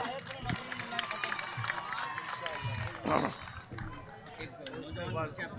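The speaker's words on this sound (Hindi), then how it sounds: "जोरदार तालियों से इनका इस्तकबाल कीजिए" Crowd at a public gathering in Nampally applauding to welcome guests, with scattered clapping, cheering and chatter mixed under ongoing talk and crowd noise.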